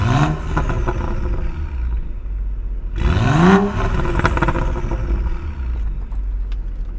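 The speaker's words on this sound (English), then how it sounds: "I'll go ahead and give it a few revs." A 2011 BMW 135i with the N55 engine and catless downpipe exhaust, parked in neutral in sport mode, revs hard twice, with a sharp rising-and-falling bark at the start and a louder, longer rev near the middle over a steady idle rumble.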